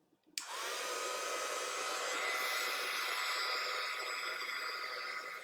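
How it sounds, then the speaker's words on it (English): A hair dryer clicks on and blows a steady, loud, close rush of air to dry wet acrylic paint on an abstract color-theory painting, holding constant to the end with no talking. "I'm just going to take my blowgun, my dryer, and I'm going to just dry these real quick."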